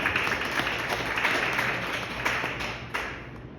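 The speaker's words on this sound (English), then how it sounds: "So I just wanted to give you all a round of applause once again." Scattered audience clapping at a luncheon event, a moderate steady patter of hands that thins slightly toward the end, heard at a room distance.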